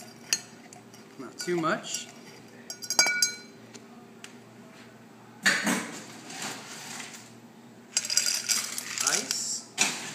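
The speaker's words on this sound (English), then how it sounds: "Gonna muddle these ingredients together to bring out the mint flavor." Fresh mint and lime juice are muddled in a glass for a mojito at Xiomara restaurant on Melrose, giving bursts of clinking and grinding between pauses, with a brief spoken remark.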